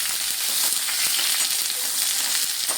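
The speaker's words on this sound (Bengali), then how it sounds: "এবার ওই তেলের মধ্যে আমি একটা বেগুন লম্বা লম্বা করে কেটে রেখেছিলাম, ওটা ভেজে নেব।" Long slices of eggplant fry in hot oil. The sizzle is dense and continuous, close and fairly loud, with faint stirring taps and no voices.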